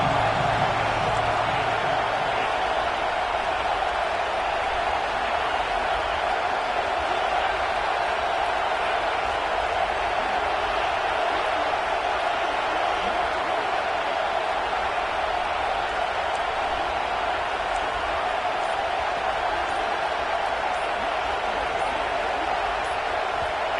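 Home crowd roaring loudly throughout an Auburn versus USC college football video game, a steady dense wall of cheering under game commentary.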